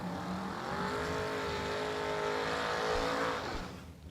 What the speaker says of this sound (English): Nice burnout by Tracy Sons on the left.